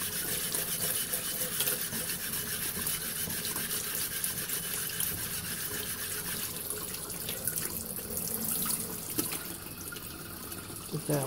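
Tap water runs steadily into a sink, a continuous close rushing stream that shifts slightly as the flow is adjusted, with no talking.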